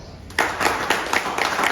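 An audience at a meeting breaks into applause, a burst of hand claps starting suddenly after a quiet moment and carrying on in uneven, slightly distant waves.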